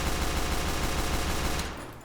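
Pistol gunfire in the Team Fortress 2 video game comes as a loud, dense, continuous stream of rapid shots that fades away at the very end.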